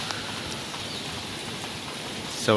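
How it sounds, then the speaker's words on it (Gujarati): Steady morning rain falls continuously in Surat, a dense even hiss of drops spattering on surfaces, with a brief louder patter near the end. "સુરતમાં સવારમાં વરસાદ ચાલુ થઈ ગયો છે"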